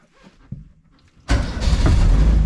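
A turbocharged Zetec-engined Mk2 Ford Fiesta cranks and catches, then roars loudly and steadily after a quiet stretch of faint handling noise, its running engine holding a rough, full-bodied drone to the end.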